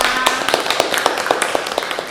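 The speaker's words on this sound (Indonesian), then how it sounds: "tepuk tangan untuk Mbak Eka" A class applauding Mbak Eka in a classroom: many hands clapping in a steady, even rhythm with quick regular beats, fairly loud over a wash of room noise.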